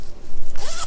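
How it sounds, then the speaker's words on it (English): A zipper on a fabric pencil pouch gets one quick, close pull, a bright rasping zip under a second long with no voices. "So how you can zip it like this right now."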